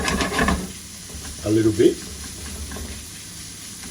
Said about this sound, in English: So what I'm going to do is saute these up